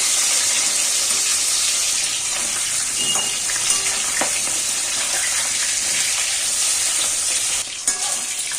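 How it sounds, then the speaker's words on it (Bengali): Pointed gourd (potol) frying in oil, a loud continuous sizzle held close throughout, with a couple of faint utensil taps and a brief clatter near the end. "এই পটল ভাজছি"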